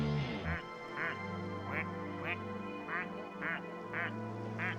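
A duck quacks again and again in a steady repeating rhythm, each call sounding the same, loud and close over a constant background hum.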